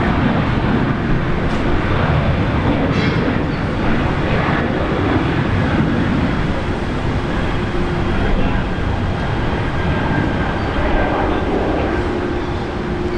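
Airliner VH-VUL, flying as Velocity 920 to Sydney, takes off from Brisbane Airport. A loud, continuous broadband engine roar fills the whole span, steady and heavy with some wind buffeting.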